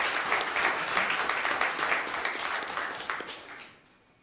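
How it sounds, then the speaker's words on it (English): An audience at an Amarillo city council meeting claps for the city's dispatchers, a steady round of applause from many hands that fades out over the final second. "please give one more round of applause for our dispatchers here in Amarillo"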